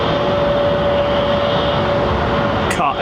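An Airbus A321neo airliner with Pratt & Whitney engines at London Heathrow gives a steady, loud, droning engine roar that holds evenly throughout, with a thin whine riding on top.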